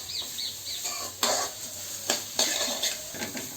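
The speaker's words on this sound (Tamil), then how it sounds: "அது வரைக்கும் நல்லா வதக்கிக்கலாம்." Onions with salt are sautéed in a pan while a utensil stirs and scrapes, making repeated clacks and scrapes over a soft, steady sizzle, with no voices.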